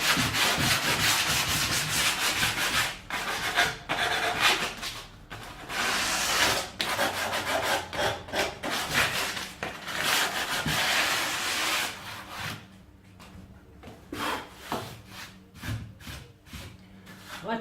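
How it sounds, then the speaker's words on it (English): Hand sanding across a clean Japanese pull saw cut on pallet wood for a kitchen drawer front, steady close scratchy rubbing strokes in a continuous run, easing into shorter, lighter passes toward the end. "I'm just going to give this cut a light sand"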